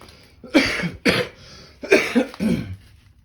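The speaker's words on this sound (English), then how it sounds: "Sorry for my cough." Two pairs of harsh, close coughs, each pair quick and back to back, separated by a short pause.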